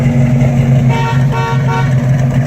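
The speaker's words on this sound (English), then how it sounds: "Horn works." The horn of a 1970 Chevrolet El Camino SS sounds in a loud, sustained blast over the steady hum of the idling engine, close up, with no one speaking.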